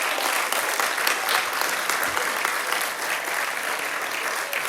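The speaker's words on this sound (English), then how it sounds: "Let's give Jim a round of applause and thank him for what he does." A press-conference audience breaks into sustained, dense clapping that stays loud and even throughout.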